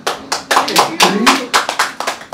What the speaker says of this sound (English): don't stop this clapping thing